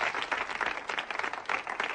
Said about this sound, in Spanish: agradeciendo ese otro aplauso espontáneo y generoso